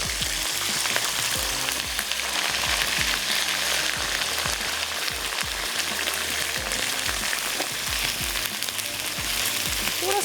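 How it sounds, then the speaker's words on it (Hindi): Meat frying in a pot with garlic and ginger paste for a potato pickle-style bhujia, a loud continuous sizzle with crackling spatter and occasional stirring knocks, close up. "चलें अब हम इसमें ऐड कर देते हैं गोश्त, हमने इसमें शामिल कर दिया।"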